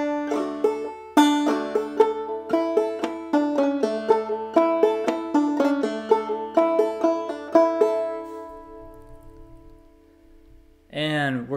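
Clawhammer banjo picks out a phrase of Logan County Blues, with bright plucked notes and brushed strums in a steady rhythm. The phrase rings out and fades, then a brief voice is heard at the very end.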